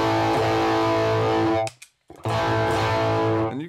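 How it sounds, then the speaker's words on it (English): Electric guitar chords through a distortion pedal ring loudly, cut off by a short silence, then struck again with a saturated, buzzing tone. "Or add some distortion here."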